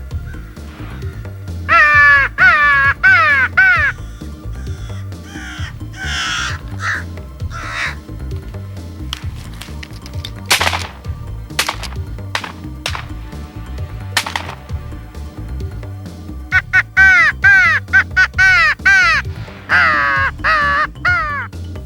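Crows caw during a crow hunt, harsh calls coming in quick repeated bursts near the start and again near the end, loud and close, with sharp clicks and scattered knocks in the quieter middle.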